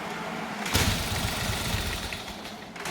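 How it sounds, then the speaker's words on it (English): An old motorcycle engine runs close by, starting abruptly after a brief quiet moment and then holding a loud, steady, throbbing idle through to the end. "She's moving along all right for an old bike like that."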